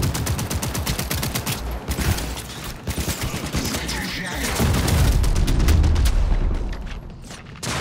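Dense bursts of rapid gunfire and booming shots from the video game Cyberpunk 2077, loud and continuous with heavier blasts toward the end; no speech over it.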